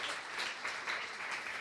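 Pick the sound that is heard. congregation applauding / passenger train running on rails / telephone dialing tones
congregation applauding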